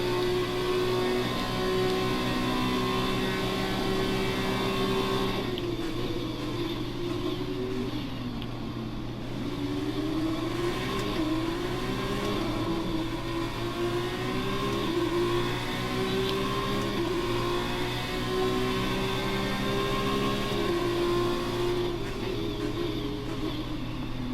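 A Formula 2 car's engine in the F1 2019 racing game during free practice at Bahrain, droning steadily close-up with rising and falling pitch through gear changes, loud and continuous with no talk over it.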